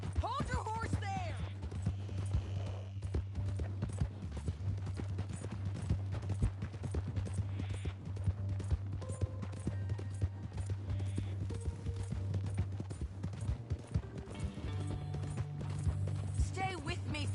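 Horse hooves clip-clop steadily in Red Dead Redemption 2, a continuous rhythmic trot running beneath frequent in-game dialogue and a low music or ambience bed throughout.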